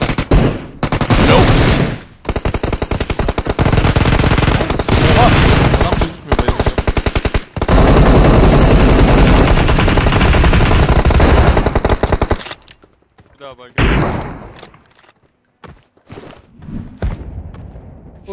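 Loud, sustained bursts of M249 machine gun fire in the video game PUBG Mobile, long rattling strings broken by short gaps before the shooting stops and quieter game sounds follow.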